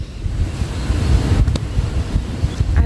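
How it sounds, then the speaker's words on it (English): Ocean surf washing in at a tropical northern waterfront with steady wind buffeting the microphone, a continuous low rumble of breaking waves with no voices. "I've just been sitting on the waterfront, looking out at the water"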